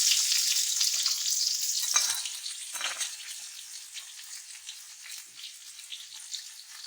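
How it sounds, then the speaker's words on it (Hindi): Chopped onions sautéing in oil make a loud hissing fry that starts bright and slowly fades to a softer sizzle over several seconds, with no speech. "अब इसी ऑयल के अंदर हमने जो चॉप्ड ऑनियन रखे थे वो इसमें हम सौते करेंगे।"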